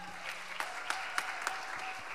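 A concert audience gives an ovation to the male musicians of a women's jazz project. Soft, distant applause is heard with a few sharper claps standing out, and a faint tone hums underneath.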